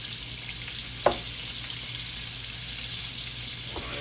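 Breaded alligator tails fry in hot oil with a quiet, constant sizzle, broken by a sharp pop or clatter near the start and a softer one near the end.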